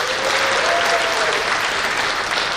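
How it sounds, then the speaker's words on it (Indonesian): An audience applauds at a seminar, a dense, steady wash of clapping that stays loud and unbroken from start to finish with no talk over it. "Tepuk tangan yang meriah untuk Santi Maru."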